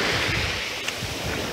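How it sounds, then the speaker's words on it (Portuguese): Ocean waves wash onto a beach in a steady, broad rushing hiss, close and fairly loud, with some wind noise and no talking. "vem uma onda forte, molha até minha perna"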